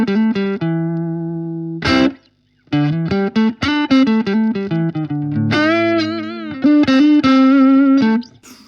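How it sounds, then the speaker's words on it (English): Electric guitar through a Blackstar HT1-R amp dialed toward a gritty Fender tweed crunch, loud overdriven chords and single-note licks played up close, one short break near the start, no voices. "See if we can get a bit of a sort of tweed grit crunch going"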